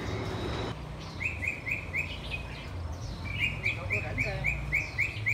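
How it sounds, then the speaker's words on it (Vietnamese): Many birds chirp in a large vegetable garden around an old house in Saigon, with repeated bright chirps in quick runs over a steady rushing background, moderately near and without talk. "Chim rất là nhiều."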